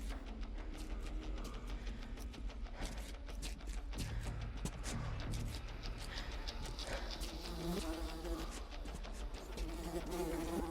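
Flies buzz steadily throughout a game scene in Metro Exodus, a dense insect drone with clicks and mechanical ticks layered over a continuous ambient bed.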